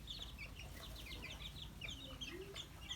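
Chicks at a bird market chirp and cluck in quick, overlapping high peeps, fairly faint and continuous, with a low murmur of background voices.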